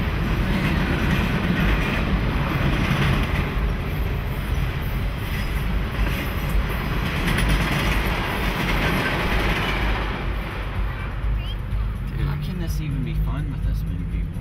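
A train rumbles steadily past nearby, with loud continuous rolling and clattering wheels throughout, while people talk over it.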